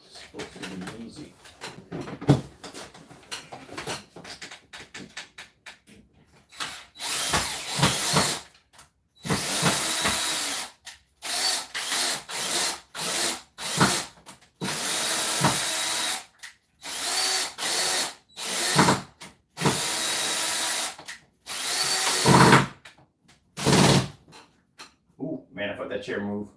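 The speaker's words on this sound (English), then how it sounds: "I hate drilling through brick" Power drill boring into brick while mounting a projector screen indoors, heard in repeated loud bursts of a few seconds each, separated by short pauses, with brief speech between some bursts.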